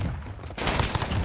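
An MP5 submachine gun in Modern Warfare fires a rapid, loud automatic burst after a brief pause, dense rattling shots close up with no talk.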